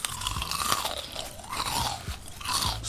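Crispy fried onions crunch loudly and steadily at close range, rustling and crackling without pause as they are handled on a plate after frying, with no voices.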